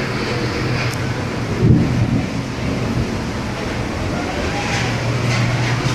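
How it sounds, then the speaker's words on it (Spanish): Heavy rain pours steadily in Siloé, Cali, near the aerial cable car line, with a low roll of thunder swelling briefly partway through over the constant hiss of rainfall. "Siguen sonando los truenos."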